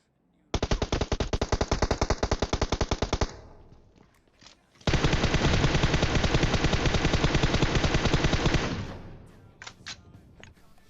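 Rapid automatic gunfire in the mobile shooter PUBG Mobile, a loud burst of evenly spaced shots for about three seconds, a brief pause, then a longer sustained burst before fading.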